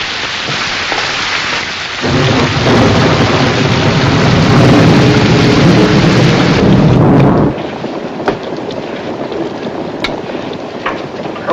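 Heavy rain pours steadily during a thunderstorm aboard a river boat, swelling into a loud roaring downpour for several seconds before easing back to lighter rainfall with a few sharper cracks.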